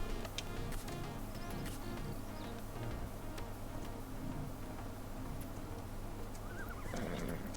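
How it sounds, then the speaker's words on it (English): Horse in the Farming Simulator 19 video game, whinnying alongside clip-clop hoof sounds and light ticking, a soft, steady game soundscape with no talk. "good horse, isn't it?"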